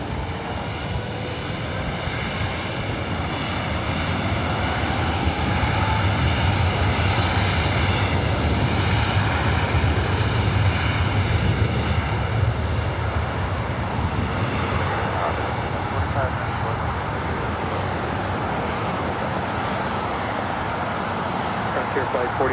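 Delta jet taking off from runway 24 right at Los Angeles airport, a loud sustained engine roar that swells and holds for the whole stretch, with air traffic control radio chatter running beneath it.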